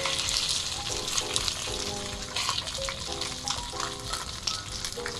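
Salmon frying skin side down in a thin layer of vegetable oil, a steady loud sizzle and crackle with bright popping bursts throughout, no voices.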